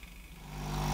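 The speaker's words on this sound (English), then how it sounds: "That noise you can hear is the pump pumping through the water into the boiler from the tank." Tefal Pro Express Protect GV9230 high-pressure steam generator iron, its pump drawing water from the tank into the boiler, giving a steady low mechanical hum and whir that swells louder toward the end, with no talk.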